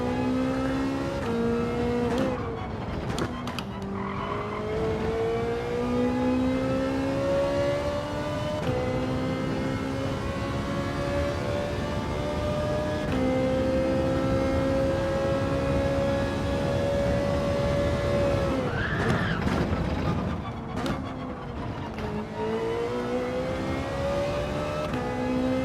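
A loud, continuous race car engine in a video game revs and climbs through the gears, its harmonic whine rising and dropping with shifts, roaring close and unbroken without any talking.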